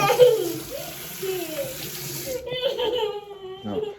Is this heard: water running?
yes